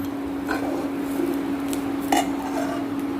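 Mushrooms roasting in a pan for a Goan xacuti, with a spoon scraping and clinking against the metal now and then over a steady low sizzle and hum.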